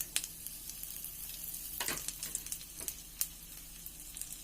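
Red chilies and cumin seeds crackling in hot oil in a pan for garlic bhindi, a steady quiet sizzle broken by a few sharper pops and light stirring scrapes.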